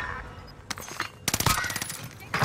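Rapid automatic gunfire in the Warzone video game crackles in bursts, a brief volley followed by denser overlapping shots, close and loud, with game sounds around it.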